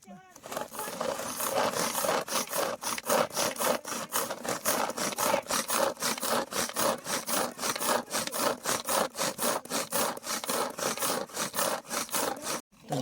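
A kitchen cutter chopping cashews and almonds for lapsi runs as a steady, rapid rhythmic grinding, loud and continuous for about twelve seconds before stopping abruptly.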